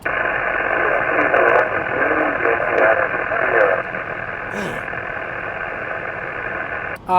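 Hiss and static from an amateur radio receiver fill a moving car during a park contact. Garbled voice fragments come through the set over a low engine hum, and the static continues steadily after the voices fade.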